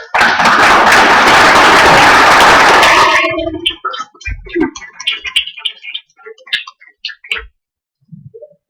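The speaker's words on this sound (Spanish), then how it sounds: "yo quiero que lo reciban con un aplauso formidable" Loud, close applause from a conference audience in Río Piedras fills the first three seconds, then breaks off abruptly into a few scattered late claps and clicks over near quiet.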